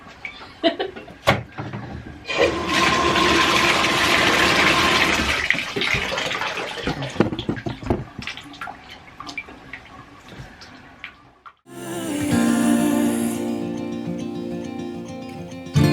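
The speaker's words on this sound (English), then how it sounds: "Let me maybe turn the camera toward the faucet." A kitchen faucet runs in two strong bursts of splashing water, the first several seconds long and the second shorter, with clinks and drips in between.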